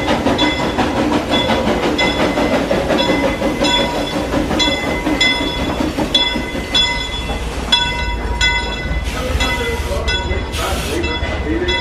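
Frisco Silver Dollar Line steam excursion train at Silver Dollar City, Missouri: a steady, loud rolling rumble with clanking wheels and rhythmic bell-like ringing throughout, under a busy mix of passenger voices.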